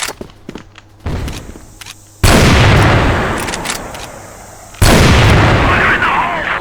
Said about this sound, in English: Smoking grenade. Fire in the hole.